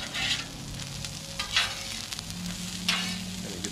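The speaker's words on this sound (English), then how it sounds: "Good old onions on the griddle." Onions sizzling in butter on a Blackstone flat-top griddle during smash burger cooking, a constant close hiss with occasional spatula scrapes.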